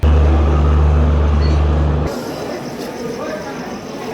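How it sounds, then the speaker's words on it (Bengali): A passenger train pulls away from Parbatipur railway station bound for Panchagarh, a loud low rumble with a steady engine hum that cuts off midway, leaving quieter rolling clatter and station ambience. "আর ট্রেনটি চলে যাচ্ছে পঞ্চগড়ের উদ্দেশ্যে"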